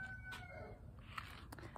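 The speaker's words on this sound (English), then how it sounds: "I just thought it was funny getting yelled at by chickens" Chickens near a building squawk and cluck in short, faint bursts, a few sharp calls scattered over a quiet background.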